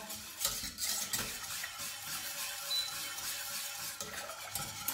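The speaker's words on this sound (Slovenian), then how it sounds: "kot vidite stalno mešam, zato da se nam ne naredijo grudice" Cornmeal batter with sweet cream is stirred steadily in a pot for Bohinj-style koruzna zlivanka, making a continuous close scraping and swishing with small irregular surges and no pauses.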